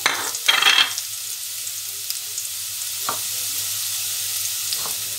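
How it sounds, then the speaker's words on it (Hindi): Chopped garlic dropped into hot oil for a Hindi-style aloo palak (potato and spinach) dish, giving a short burst of sizzle and stirring near the start that settles into a steady, quiet hiss with occasional utensil scrapes. "जो मैंने लहसुन रखा है काट के ये डाल लेंगे। इसको थोड़ा सा सौते करेंगे"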